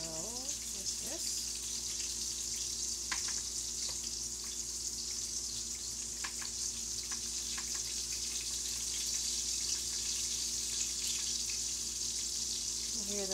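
Sausage frying in a pan, a faint, continuous sizzle running steadily in the background with a few soft kitchen clicks, no talk over it.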